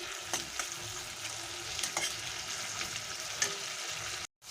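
A large tomato being stirred and mixed in a hot pan with sizzling oil, steady frying hiss with scraping stirs and a few sharper clinks, close and alone with no talk.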